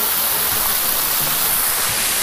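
Water from Dainthlen or Prut Falls in Northeast India pours down at very close range in a loud, dense, unbroken roar of spray with no pauses.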